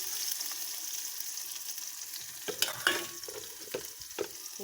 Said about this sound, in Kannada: ಈರುಳ್ಳಿ ಚೆನ್ನಾಗಿ ಫ್ರೈ ಮಾಡ್ಕೋಬೇಕು 2 ನಿಮಿಷ